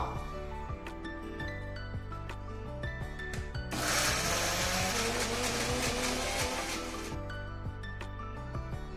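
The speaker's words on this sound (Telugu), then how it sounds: "ఇప్పుడు వీటిని మెత్తగా గ్రైండ్ చేసుకుందాం మిక్సీలో" A kitchen mixer grinder whirs as it grinds chutney ingredients with water, the loud motor roar surging for a few seconds in the middle, framed by quieter mechanical hum before and after.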